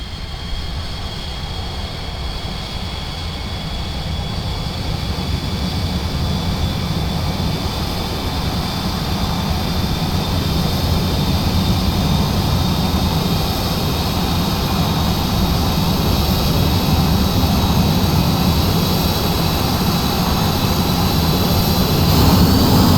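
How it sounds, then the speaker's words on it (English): General Electric J79 jet engines spool up on an F-4J Phantom II in a flight simulator game, a loud steady roar with rising whine and high tones that grows gradually stronger over twenty seconds, no voices. "We'll listen to that General Electric J79 here as it fires up."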